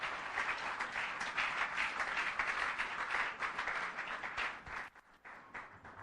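A church congregation applauding in praise of the Lord, a dense sustained wash of clapping that carries on strongly before briefly thinning and picking up again near the end.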